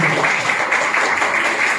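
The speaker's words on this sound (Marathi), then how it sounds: "सर्व उपस्थितांना विनंती करतो की त्यांनी टाळ्या वाजवून त्यांचं जोरदार स्वागत करावे" An audience applauds to welcome a guest at a gathering in a Buddhist vihara, steady dense clapping throughout, fairly loud and continuous with no voices over it.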